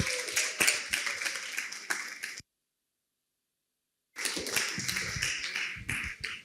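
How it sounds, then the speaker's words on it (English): Audience members at a medical expo panel discussion clap for a speaker, a fairly close patter of individual claps, cut by about two seconds of complete silence before the clapping resumes. "With a round of applause, Dr. Lucy Ajepong."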